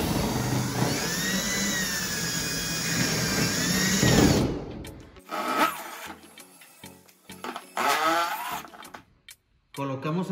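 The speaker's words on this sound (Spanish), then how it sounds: "De esta forma, empezamos a insertar la pija broca." A power drill drives a self-drilling screw into a metal mini rail, a loud steady whirring run for about four seconds that stops abruptly, followed by someone talking with a few bumps and clicks.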